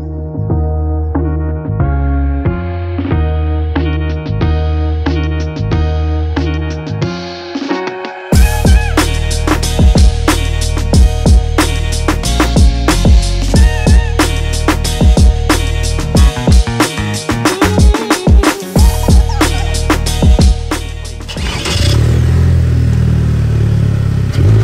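A three-wheeled car's engine revs up with turbo boost, a loud, close drone that jumps sharply in intensity partway through and holds a busy, clattering roar before easing off.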